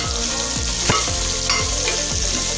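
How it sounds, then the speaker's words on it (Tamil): Onions for mutton masala sautéing in a pan: a steady broadband sizzle with several spoon scrapes against the pan at a loose rhythm, close and fairly loud, with no talking. "இப்போ அந்த வெங்காயம் நல்லா வதங்கட்டும்"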